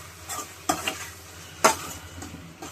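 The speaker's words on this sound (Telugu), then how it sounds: "కట్ చేసుకున్న ఇడ్లీలు ఇలా ఫ్రై చేసుకొని దీనికి టక్కలు చేసుకుంటాం." Cut idli pieces frying in a pan for idli chilli 65, with stirring and scraping over a soft sizzle, marked by a few sharp utensil knocks near the start and middle.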